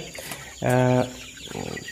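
A chicken lets out a single loud, drawn-out cluck, followed by a softer call, with faint farmyard background noise.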